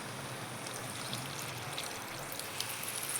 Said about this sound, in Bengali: এখন আমি আন্দাজ মতো জল দিয়ে দেব।